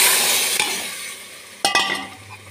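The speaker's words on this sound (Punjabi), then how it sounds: "ਚਲੋ ਜੀ ਇਸ ਸਟੇਜ 'ਤੇ ਆਪਾਂ ਵਿੱਚ ਜਿਹੜੇ ਆਲੂ ਬੜੀਆਂ ਭਿਉਂਦੇ ਸੀਗੇ ਉਹ ਪਾ ਦੇਣੇ।" Soaked potato badiyan dropping into a hot pan of oil: a steady, close sizzle that slowly fades, then a fresh loud burst of frying as more pieces go in, with no talking.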